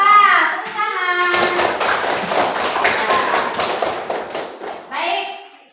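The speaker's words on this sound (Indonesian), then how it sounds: "Tepuk tangan." A classroom of students breaks into loud applause for a classmate, dense clapping that swells and holds for several seconds, with a voice speaking over the start and end.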